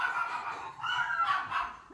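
A female dog barks indoors in a home, giving a few muffled barks in two short bursts at moderate distance, with no one talking.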